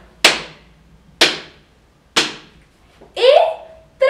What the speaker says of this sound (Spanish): tres palmas en nuestras piernas